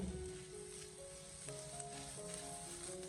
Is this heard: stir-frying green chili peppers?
yes